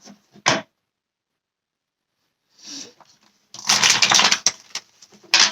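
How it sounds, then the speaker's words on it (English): Bursts of riffling tarot card shuffling, a short flick early on and a longer busy rustle near the end, separated by quiet gaps. "One more shuffle."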